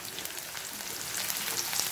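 Chopped onions fry for a samosa filling in a pan, giving a steady, even sizzle with fine crackling that keeps going without a break and grows a little louder toward the end, with no voices.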